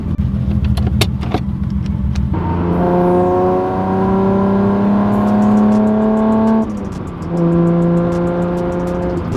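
A Datsun car engine runs loud and close, pitch climbing through the gears with a shift near the middle, steady and unbroken with no talking.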